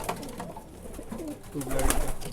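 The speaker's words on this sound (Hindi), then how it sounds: "ये ट्यूबलाइट कबूतरी है" Soft, throaty coos from a tubelight-breed female pigeon repeat a few times over a low background rumble, fairly close.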